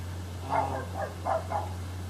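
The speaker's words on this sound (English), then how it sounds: "Sorry about the dog in the background, that's my neighbor's dog again." A dog barks four times, faint and distant, over a steady low hum with no talking.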